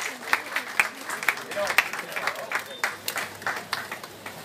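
Audience applause at a farewell ceremony: quiet, irregular bursts of clapping that rise and fall over a few seconds in a hall, blended with a faint murmur of the crowd.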